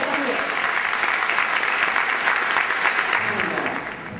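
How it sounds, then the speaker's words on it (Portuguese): An indoor audience at a municipal Father's Day event gives a round of applause for a city councilman, dense steady clapping that holds loudly and then tapers off at the end. "Mais uma vez, peço uma salva de palmas ao nosso vereador."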